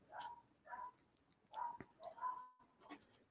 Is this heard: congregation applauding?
no